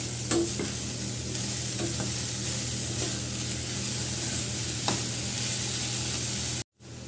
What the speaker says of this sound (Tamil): வெங்காயத்தாள் போட்டு வதக்கிட்டோம்.